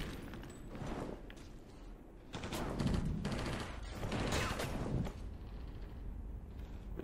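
A big gun in the video game Inversion unleashing rapid, heavy bursts of automatic fire, loud and continuous over several seconds amid battle noise.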